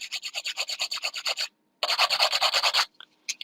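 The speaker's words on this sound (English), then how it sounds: "My hand filing should be enough." A nail file rasps by hand across fingernails during a salon manicure, quick rhythmic back-and-forth strokes in two loud, close runs separated by a short pause, then a few lighter scrapes. No talking.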